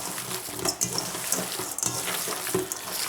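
Ground beef burger mixture being worked by hand with spicy chopped veggies, making soft, wet squishing and slapping sounds in repeated close bursts, with no talking.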